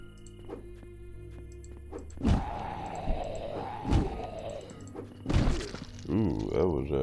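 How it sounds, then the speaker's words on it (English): A few heavy thuds and booms from explosions in the video game Zompiercer, with rumbling, crackling debris between impacts and a brief sharp burst near the end. "a nasty explosion"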